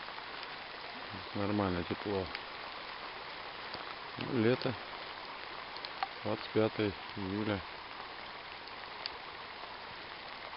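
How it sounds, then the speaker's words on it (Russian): Warm summer rain falls steadily outdoors, a soft continuous hiss beneath someone speaking Russian in short bursts. "когда вот сейчас дождь такой теплый идет"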